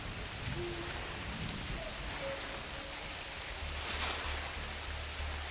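Steady rain falls at night outside a house in the woods, a constant wash of hiss and patter that fills the whole stretch, with a faint low rumble swelling in near the end.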